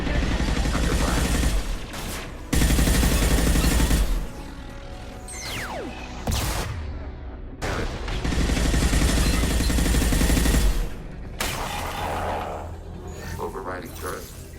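Mass Effect 2 firefight with heavy, continuous gunfire in long loud bursts broken by brief pauses, mechanical clatter and whooshing effects in between, with a synthetic voice speaking under the shooting.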